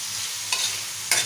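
Prawn masala frying on a flat tawa is stirred with a spatula, a steady close sizzle broken by two brief scraping strokes against the pan.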